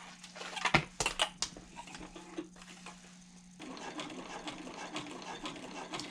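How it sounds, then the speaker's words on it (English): A sewing machine stitches the clipped seam edges of a handbag at a half-inch allowance. A few sharp clicks and handling noises come first, then a steady, quiet mechanical whir as the needle runs. "we are ready to sew down each of the clipped edges at 1/2 inch seam allowance"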